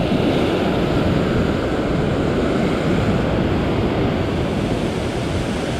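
Continuous loud roar of ocean waves breaking on a rocky shore, mixed with strong wind buffeting the microphone, heard alone without any voices at a fishing spot.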